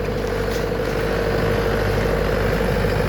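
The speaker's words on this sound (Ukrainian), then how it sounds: "Трактор 23-го року випуску. Свіженький." A 2023 Lovol 504 diesel tractor engine idles steadily nearby, a continuous low rumble with a faint hum and no talking.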